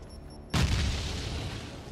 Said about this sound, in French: c'est un gars qui lance des grenades